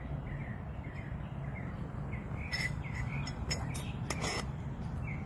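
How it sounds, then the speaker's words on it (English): Birds chirping outdoors on a fine day, faint scattered calls over a steady hum of insects, with a few brighter chirps near the middle. "You can kind of hear the birds chirping"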